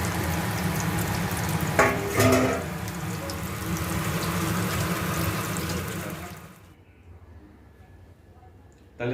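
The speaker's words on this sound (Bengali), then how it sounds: "বর মন দিয়ে চিংড়ি মাছের বড়া করছে" Prawn fritters frying in hot oil, a steady dense sizzle close by with a few clinks of utensils, fading to near quiet after a few seconds.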